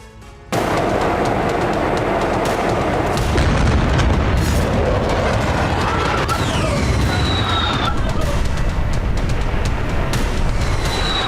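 Bomb and missile strikes in news footage of attacks on Iranian nuclear sites, heard as a loud continuous rumble of blasts and booms, dense and sustained for the whole stretch after a short quiet start.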